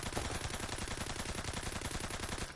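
A gun in Call of Duty WW2 fires in a continuous, rapid automatic stream, each shot evenly spaced in a loud, dense rattle that never pauses.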